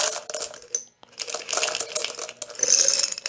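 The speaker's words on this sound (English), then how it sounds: "Then I'm going to add in my coins." Coins tumble and clink into a jar of soapy water in a dense, bright rattling cascade, with a short pause before a second longer pour of jingling metal close by.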